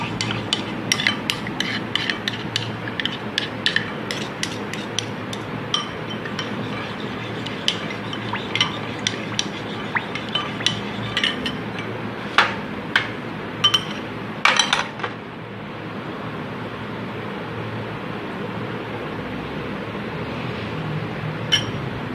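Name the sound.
mixing wafer dessert ingredients in a bowl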